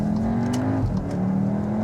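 A Volkswagen Tiguan R, a fast family SUV, accelerates hard on a dual carriageway, its engine note holding a loud, rising whine from inside the cabin with steady road roar and no talking.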